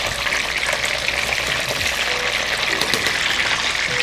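Flour-breaded, par-cooked chicken wings frying in hot oil give a steady, dense crackling sizzle that stays even and fairly loud throughout, with no voices.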